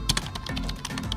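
Quick keyboard typing of a channel name into a search box, a short burst of light tapping keystrokes close up with no talk.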